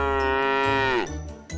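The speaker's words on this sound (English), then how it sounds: "They make the sound moo" A cow gives a single loud, close moo that holds steady, then drops in pitch and fades, followed by a brief soft grunt.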